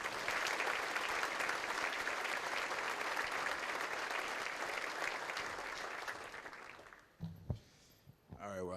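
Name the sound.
banquet audience applause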